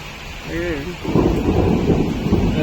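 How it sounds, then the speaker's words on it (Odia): Thunder rumbles in low and loud as heavy pre-monsoon Kalbaisakhi storm rain pours down steadily in Bhubaneswar, following a brief high tonal call near the start. "ବର୍ଷା ଆରମ୍ଭ ହେଇଯାଇଛି।"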